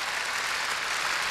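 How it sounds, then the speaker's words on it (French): Applause from a TV studio audience, a fairly faint, even wash of clapping with no voices over it. "Applaudissements"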